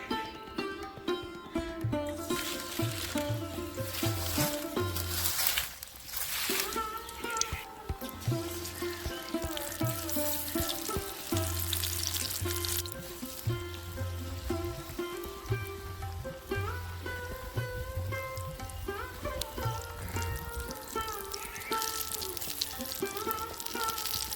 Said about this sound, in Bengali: শিমটাকে ভালো করে ব্যাটারের মধ্যে মাখিয়ে নিয়ে এপিট ওপিট বেশ ভালো করে ব্যাটার দিয়ে তারপর আমি এটাকে তেলে ছেড়ে দেবো